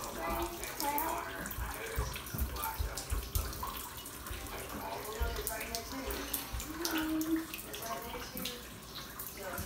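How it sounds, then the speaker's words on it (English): Water runs steadily from a bathroom tap, a continuous splashing wash under intermittent talking and other household noise. "Who left the water on in the bathroom?"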